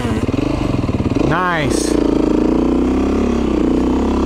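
Yamaha YZ 65 dirt bike engine idling close by, then revving sharply as the clutch is let out with more gas, settling into a steady drone; a voice speaks briefly.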